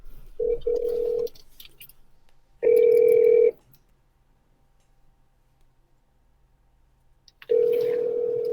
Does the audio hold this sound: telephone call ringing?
yes